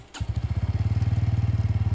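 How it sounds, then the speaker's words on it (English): Bajaj Pulsar P150 with an underbelly exhaust idling: a steady, rapid low thumping pulse that holds even and loud right after a brief start, with no voices. "let's see what this underbelly exhaust sounds like."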